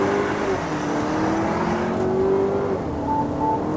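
A 2023 Chery Tiggo 8 Pro 2.0T turbo with a DCT gearbox pulls hard under acceleration. The steady loud engine drone holds a rising pitch, then drops back at a gear change, with no talk over it.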